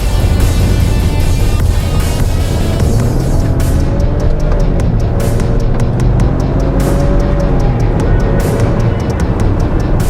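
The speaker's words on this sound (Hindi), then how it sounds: "गाड़ी की एक्सेलरेशन देख रहे हैं जी जनाब हम लोग।" A Proton X50 compact SUV accelerates hard on a test drive, a loud continuous engine roar with heavy wind and road noise that climbs through gear changes, loud and close.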